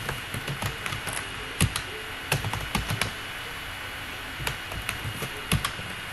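Typing on a computer keyboard while entering names into an Excel spreadsheet: irregular clusters of sharp key clicks over steady background hiss, with no voices.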